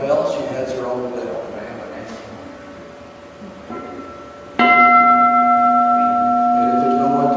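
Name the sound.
Japanese temple bell struck on rim with mallet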